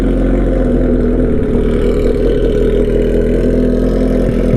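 A Suzuki GSX-S750 motorcycle engine runs from a cold start, holding a steady, loud, continuous idle rumble with no pauses throughout.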